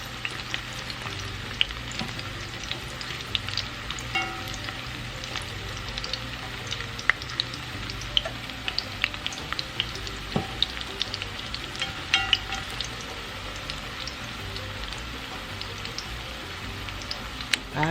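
Plantain slices fry in oil in an old frying pot, a dense, steady sizzle and crackle with scattered pops and occasional stirring clatter throughout, close and even.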